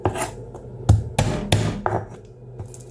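Garlic and onion being chopped with a knife on a board for paksiw: several sharp, separate knocks at an uneven pace, fairly close, with no talking.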